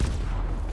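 A gunshot in the video game Detroit: Become Human, a short, heavy low boom with a dull rumbling tail that fills the whole moment at close range.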